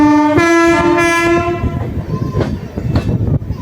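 A loud, sustained train horn blares over the rumble of a moving express train, the Uday AC Double Decker Express, then cuts off, leaving the clatter of wheels and rail noise.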